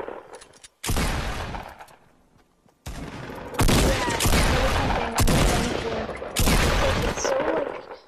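Pump shotgun blasts in Fortnite Battle Royale, heard as a handful of loud, close, booming shots in quick pairs and separate bursts, with a quieter stretch between the first blast and the later cluster.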